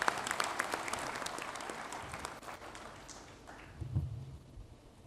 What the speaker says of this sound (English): Can we clap hands for President Infantino